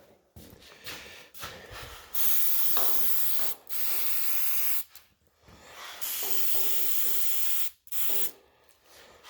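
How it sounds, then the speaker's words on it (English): Rust treatment sprays from an aerosol can inside a rusty car body in a series of loud, hissing bursts of a second or two each, separated by short pauses, with no talking. "I sprayed it down inside here and drowned it."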